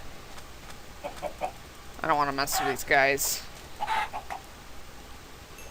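Minecraft chickens cluck in a couple of short bursts among other game sounds, while a voice speaks briefly over them.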